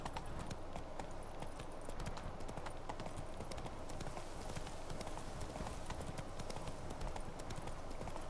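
Roach the horse galloping in The Witcher 3, a rapid, steady clip-clop of hooves running continuously, close and even in level, with no speech over it.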